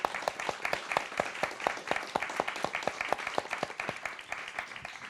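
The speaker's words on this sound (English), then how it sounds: "Let's give a big round of applause to Alexis," Audience applause for three speakers at the end of a talk, a steady rhythmic wash of many hands with strong periodic claps standing out, continuous for the full length.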